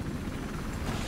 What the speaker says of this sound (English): Now, killed SEAL Team Stove right before he launched a stinger at our helicopter